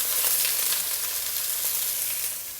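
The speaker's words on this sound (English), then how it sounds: "I'm just going to pan fry them" Big red deveined prawns pan frying in hot oil, a loud continuous crackling sizzle close up with no voices.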